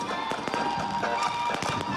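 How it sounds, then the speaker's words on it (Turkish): Fireworks launched from city rooftops at a New Year's celebration in Istanbul crackle and pop in repeated sharp bursts over a continuous crowd-like rumble, fairly loud with no clear speech. "İşte binaların tepesinden havai fişekler atılıyor."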